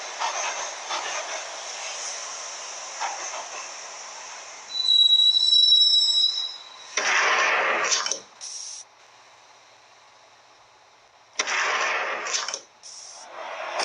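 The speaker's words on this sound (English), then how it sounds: "the train doors had already shut behind me, and I was in for the ride" Subway train ride in the Max Payne video game, heading to Roscoe Street Station: steady rumbling carriage noise with a thin squeal, then repeated loud bursts of hissing or rushing noise separated by quieter stretches.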